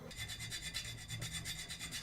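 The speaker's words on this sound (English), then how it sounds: "File away, file away." Wooden piece being filed by hand for a marble machine build, a steady rhythmic rasping of repeated close strokes with no talk.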